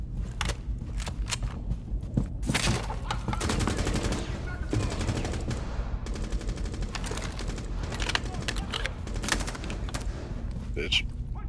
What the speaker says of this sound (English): Someone shooting through the wall.